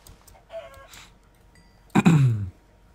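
A chicken in the Minecraft video game gives a couple of short clucks, followed by a louder squawking cry as it is hit, brief and close against near silence.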